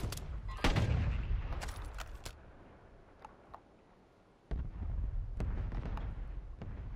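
Gunfire in Call of Duty Warzone: a burst of loud close shots up front, a couple of sharp isolated reports in a quieter stretch, then another dense run of firing with scattered cracks.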